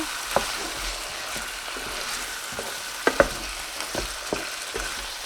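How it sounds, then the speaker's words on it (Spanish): Tomato sauce being stirred into a sizzling, frying mixture for Cuban yellow rice with chicken, a steady close crackle broken by scraping spoon strokes and a few sharper clicks against the pan. "Pasado ese tiempo le vamos a agregar la salsa de tomate. Lo vamos a mezclar."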